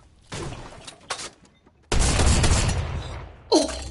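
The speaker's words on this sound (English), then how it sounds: "Because it's an automatic shotgun." Heavy booming blasts from an automatic drum shotgun in a video game, a sustained roaring volley in the middle with a couple of shorter bursts around it.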